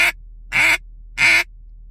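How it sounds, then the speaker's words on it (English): A duck call is blown in a normal quack pattern: three short, loud, nasal quacks spaced evenly apart, close and alone with silence between them. "So just your normal quack pattern"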